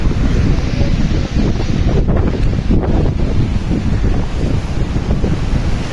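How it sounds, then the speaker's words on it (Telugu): Large sea waves surging and crashing at Aguada in Goa, a loud continuous roar of surf mixed with heavy wind buffeting the microphone, steady throughout with no talking. "చూడండి, అలలు పెద్ద పెద్ద అలలు వస్తున్నాయి సముద్రంలో నుంచి."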